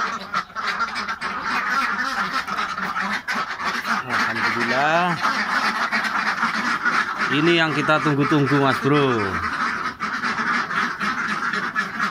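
Ducks in a coop quacking repeatedly in loud nasal bursts close by, several calls overlapping, while someone talks over them.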